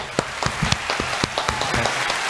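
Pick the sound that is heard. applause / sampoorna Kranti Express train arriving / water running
applause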